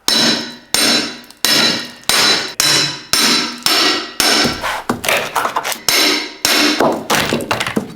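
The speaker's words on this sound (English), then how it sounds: "Hold the bar nice and flat to the wall and hit that bar with the hammer." A hammer strikes a metal pry bar held against a wall to remove skirting, sharp ringing blows with short decays, evenly paced at first and then quicker and more irregular, close by.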